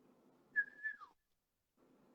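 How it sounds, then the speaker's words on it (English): A person whistles to call a dog, giving one short, clear rising whistle followed by a falling slur, alone against faint background hum. "Usually he comes when I whistle."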